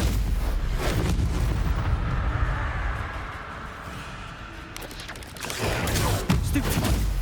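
Spell combat in the video game Hogwarts Legacy produces a dense run of booming, crackling blasts that rumble continuously, swelling again near the end.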